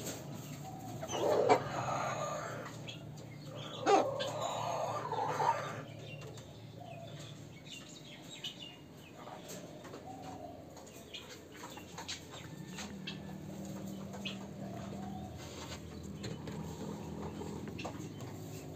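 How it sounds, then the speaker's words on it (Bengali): Golden Sebright chickens clucking on a fancy poultry farm, several soft clucks and calls near at first, then quieter murmuring and a low drawn-out cluck later on. "গোল্ডেন সেভরাইট দেখেন, সুপার কোয়ালিটি।"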